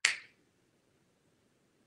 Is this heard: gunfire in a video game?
no